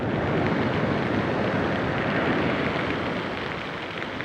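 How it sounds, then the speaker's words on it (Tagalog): Heavy rain pours down at sea, a dense, loud, unbroken hiss and patter that holds steady throughout with no voices. "lakas ng ulan sa laot."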